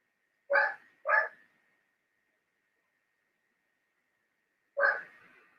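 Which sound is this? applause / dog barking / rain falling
dog barking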